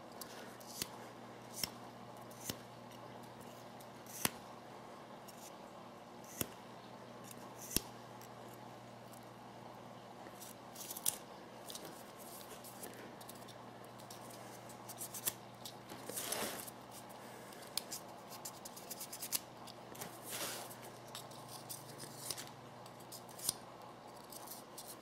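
A UST Sabercut razor saw cutting through paracord, heard as quiet, close, irregular rasping snips and scraping strokes with scattered sharp clicks over a low background hum.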